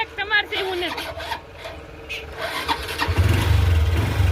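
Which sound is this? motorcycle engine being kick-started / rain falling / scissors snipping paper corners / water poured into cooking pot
motorcycle engine being kick-started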